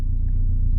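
Low, steady engine and road rumble from a Honda Civic ESi on a test drive, heard from inside the car, a continuous droning hum with no speech.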